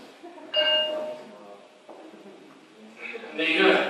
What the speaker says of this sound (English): So the stones ring like bells.